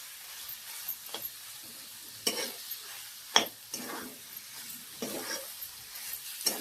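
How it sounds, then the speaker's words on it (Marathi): Chicken sautéed with chicken masala and red chili chutney in a pan, a soft low sizzle broken by intermittent stirring scrapes and a few metallic utensil knocks, fairly quiet and close, without speech. "छान 2 मिनिटं परतून घ्यायचं."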